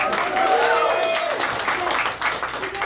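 A crowd applauds with a dense wash of clapping that swells and then eases slightly, while a voice talks over it.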